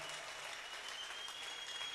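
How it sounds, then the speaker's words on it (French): A church congregation claps in praise of God, a steady, even wash of applause from many hands that fills the room at moderate loudness and does not let up. "Mtu mmoja mpatie Yahweh makofi"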